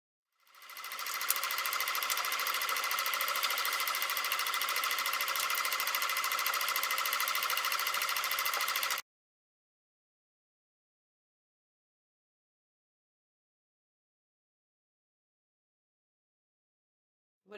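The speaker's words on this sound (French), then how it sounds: "Toutes les longueurs, on va coudre la dentelle." A sewing machine stitches lace onto a fabric pouch in one steady, fast, buzzing run lasting about nine seconds, then stops abruptly into silence.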